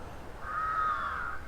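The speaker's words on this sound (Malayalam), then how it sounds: "കാക്കയുടെ സൗണ്ട്, കിളികളുടെ സൗണ്ട്," In a quiet village area, a single crow caws once, a drawn-out, moderately distant call standing out over faint background ambience.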